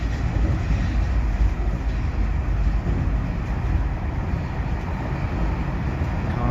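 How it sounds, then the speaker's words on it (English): A ground-powered urban train runs alongside road traffic, producing a loud, steady rolling rumble with broadband rail noise that continues evenly throughout, with no voices. "Cars running side by side with trains."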